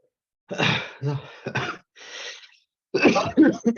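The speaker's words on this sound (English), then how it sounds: "I have a little bit of a cough" A series of short, harsh coughs and throat-clearing bursts come in uneven clusters, loud and close, separated by brief silences.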